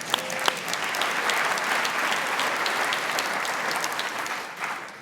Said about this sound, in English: we should clap for the weather